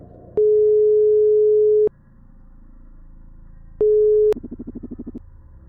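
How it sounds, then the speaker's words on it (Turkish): Phone call ringback tone heard while dialing: a long steady electronic tone, a pause, then a shorter tone that breaks into a rapid pulsing burst, close and fairly loud, with no talk. "Çalıyor."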